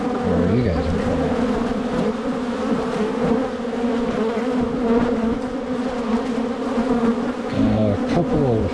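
Honey bees swarm densely during a summer hive inspection, giving a loud, continuous, close droning hum with wavering pitch that carries through the whole stretch.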